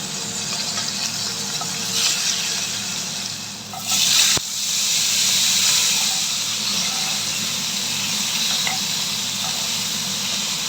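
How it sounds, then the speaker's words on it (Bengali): Hot oil hissing in a pan heating up to cook a fish curry, a steady broadband sizzle running throughout with a brief louder burst midway, no talking. "তেল এদিকে গরম হয়ে গেছে"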